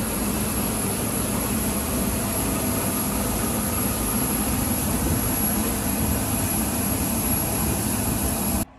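A plane's engines give a steady, loud, broadband jet roar with a high whine on top, continuous and close while a passenger boards.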